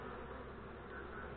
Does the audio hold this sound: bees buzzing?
yes